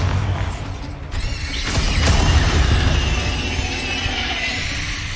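A Bombarda spell blast in the video game Hogwarts Legacy erupts with a sudden crash and a shattering burst, then a loud, rumbling roar that swells and slowly fades over several seconds.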